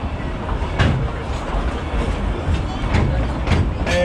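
Dollywood Express train at night rolling to a stop at the depot, a steady rumbling rail noise with soft clickety-clack and a few brief metallic squeals near the end, a voice faintly present underneath.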